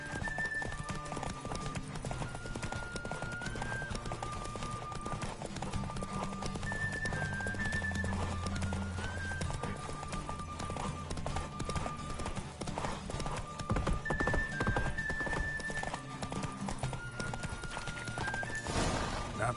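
The horse Roach galloping in the video game The Witcher 3: continuous rhythmic hoofbeats at a fast pace throughout, with occasional snorts and a whinny, under steady game music.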